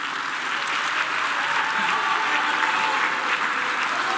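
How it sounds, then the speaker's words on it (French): Sustained audience applause for conference panelists at a French-language public forum, a steady, dense wash of many hands clapping at even loudness throughout, with no voices over it. "Nous pouvons applaudir pour nos panélistes."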